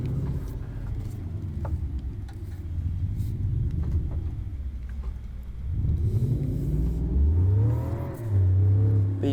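A car engine fitted with a tuned exhaust revs loudly in BeamNG.drive, a low rumbling drone that swells and climbs in pitch, dips, then surges again into higher sustained revs near the end.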